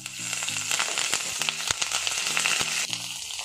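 Curry leaves hitting hot oil in a pan with sliced shallots and tamarind for Kerala-style mutton masala, a loud, crackling sizzle with sharp pops, heard close against faint background music.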